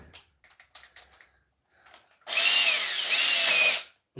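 A vintage Makita power drill runs at speed 2 with a loud, steady high whine for about a second and a half, close by, after a few quiet clicks and handling knocks.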